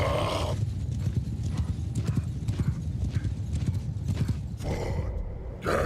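Many horses gallop in Mount & Blade II: Bannerlord (Warhammer Old Realms), a loud dense drumming of hooves with occasional whinnies, continuing steadily throughout.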